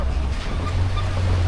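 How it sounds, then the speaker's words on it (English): Choppy water slapping around a tour boat on a safari ride, a steady rush of waves and wind with a low engine drone underneath, close and continuous with no talk. "The water's kind of choppy over here."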